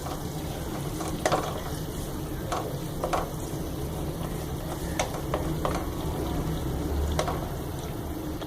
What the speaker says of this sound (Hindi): और अब हम इसे प्याज को ब्राउन कर लेंगे।